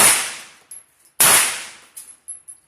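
Two loud, sharp gunshots at an outdoor shooting range, each trailing off in a long ringing decay, followed by a few softer clicks and clanks. No one speaks.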